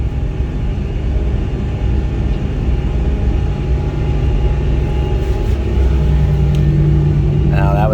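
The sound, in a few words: Fendt 1050 tractor engine grunting under load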